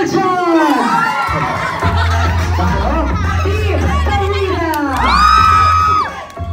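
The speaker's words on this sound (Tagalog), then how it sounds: "Palakpakan po namin kasamang sigawan para sa Team Aljon!" At an anniversary celebration, a fan crowd cheers for Team Aljon, with loud whoops, shouts and laughter in rising bursts that swell near the end.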